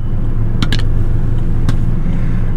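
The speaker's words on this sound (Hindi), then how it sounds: "आवाज़ें तुम्हें आ रही होगी ट्रैफिक की" Street traffic in Amritsar's Hall Bazaar, a steady low rumble of passing vehicles with a few brief sharp clicks and knocks, fairly loud and continuous, no talk.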